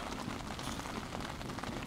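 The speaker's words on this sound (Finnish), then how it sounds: "Rupes satamaan vettä. En tiedä kuuluuko rapina sinne" Rain patters steadily on a hot tent heated by a titanium stove, a dense, even crackle of drops close by with no voices.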